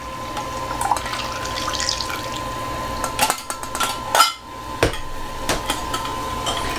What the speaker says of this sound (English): we're going to let this drain for the last 10 seconds